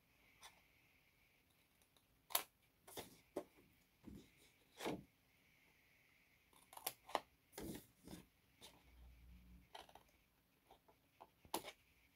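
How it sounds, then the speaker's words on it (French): Scissors cut paper in a series of crisp, close snips at an irregular pace, with quiet pauses between them. "une paire de ciseaux"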